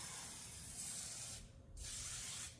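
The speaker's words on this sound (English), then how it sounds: "We just use this Max Strength contact adhesive and we'll spray it on." Max Strength contact adhesive hisses from an aerosol can in two steady close sprays, with a short pause between them.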